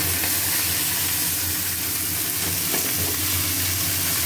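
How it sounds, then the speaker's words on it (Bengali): Fried fish head with taro, jackfruit seeds, pumpkin, eggplant and potato hisses loudly in a hot pan, a dense continuous sizzle up close with no voices. "এবারে সবজি দিয়ে ভাজবো"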